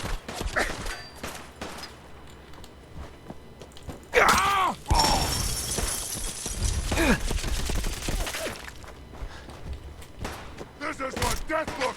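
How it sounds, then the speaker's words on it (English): Bursts of gunfire in the Fallout 4 video game crackle amid clattering impacts, loudest in a dense middle stretch, with a person talking and reacting over the action. "Quit shooting me!"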